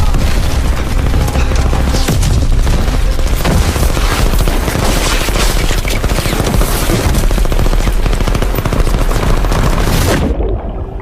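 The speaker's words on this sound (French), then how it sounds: "dites mitrailleuse active" Dense, continuous machine-gun fire rattles through a loud action-film battle, heavy booms mixed into the rapid bursts, before cutting off abruptly near the end.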